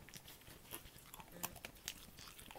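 A French Bulldog crunches a cookie at close range, with quiet irregular crisp bites and chewing clicks scattered over a faint background.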